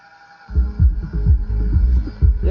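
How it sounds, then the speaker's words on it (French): Music with heavy, thumping bass plays loudly through a repaired Taramps HD3000 1-ohm car amplifier. It kicks in after half a second of low hum, and the rhythmic low beats run steadily to the end. "Alors je vais mettre la musique, je vais la lancer"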